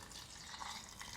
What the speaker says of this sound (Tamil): அளவான தண்ணி ஊற்றி